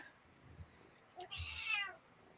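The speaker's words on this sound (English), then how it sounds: "My kitty cat wants to talk." A pet cat gives a single drawn-out meow, close and fairly clear, after a soft brief chirp, against a quiet room with no talking.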